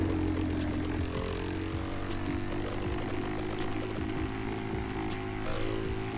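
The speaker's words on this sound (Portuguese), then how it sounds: "Não sei se é normal ela dar essas estraladinhas no motor, mano." Honda Pop 110i motorcycle engine in GTA V, a steady droning idle with harmonic hum and faint intermittent crackling pops, continuous and close throughout with no talk.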